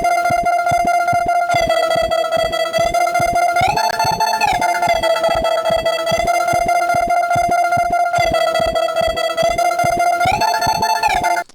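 A gritty, distorted synth lead from a crushed Portal preset holds a bright, harsh tone over a rapid pulsing rhythm, shifting pitch in repeating phrases, loud and steady.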